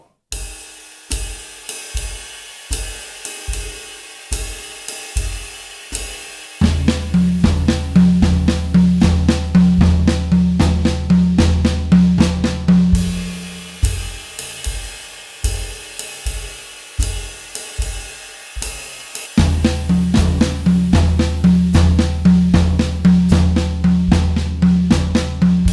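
A drum kit plays Swiss triplet rudiments across the toms and snare in a slow swing feel, in repeated two-bar phrases. Sparse hits alternate with denser passages, close and punchy, with no talking over the playing.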